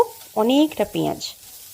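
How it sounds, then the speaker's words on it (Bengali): Chana dal, peanuts and curry leaves frying in a pan, with a brief loud sizzle and stirring scrape that rises and falls twice, squeaky and ringing, then dies back to quiet. "ছোলার ডাল, আর দিয়েছি বাদাম, দিয়ে কিছুক্ষণ ভাজলাম"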